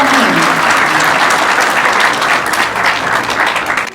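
Loud, dense audience applause as a speaker is called onto the stage at an international exhibition opening attended by Australian members of parliament, sustained and close, easing slightly near the end.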